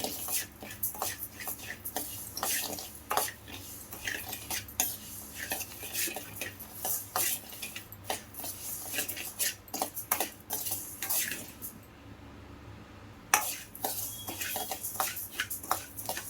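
Rice dry-roasting in a pan while a utensil stirs it: repeated close scraping and clinking strokes against the metal in an irregular rhythm, with a faint sizzle underneath.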